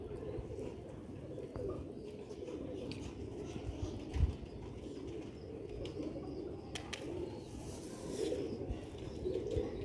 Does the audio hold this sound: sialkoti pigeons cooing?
yes